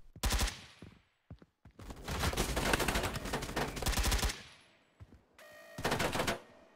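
Bursts of automatic gunfire in the video game Blackhawk Rescue Mission 5: a short volley, a few isolated shots, then a long sustained rattle and a final burst, loud and close with no talking.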